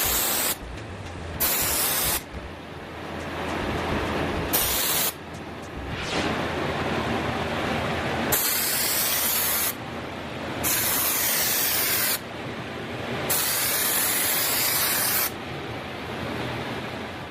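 A spray gun applies coats of material to a car panel at low pressure in several steady hissing passes, each lasting a few seconds and broken by brief silent gaps, loud and close with no speech.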